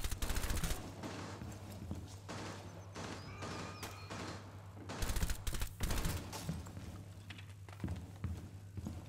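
Bursts of gunfire from a Rainbow Six Siege match, sharp volleys clustered at the start and again midway, with scattered shots, footstep-like clatter and a steady low hum in between.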